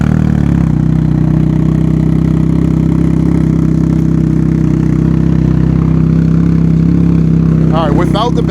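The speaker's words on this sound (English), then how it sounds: "now let's start it up and see what the volume is" A Can-Am Ryker fitted with a Twin Kaos exhaust and no baffle runs close by with a loud, steady, deep rumble throughout, with a brief burst of higher sound near the end.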